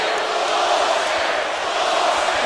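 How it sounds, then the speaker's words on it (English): A basketball arena crowd at an Oklahoma versus Texas Tech game roars and boos in a broad, sustained wash of disapproval, with no clear individual voices standing out. "the crowd here is taking a little disagreement with that call"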